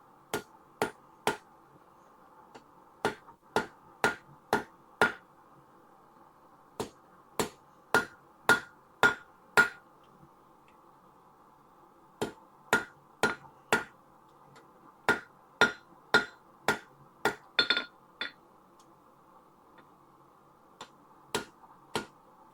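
Metal is hammered on the edge of an anvil for an animal sculpture: sharp, ringing strikes in quick groups of three to six, separated by short pauses, close and clear over a faint steady hum.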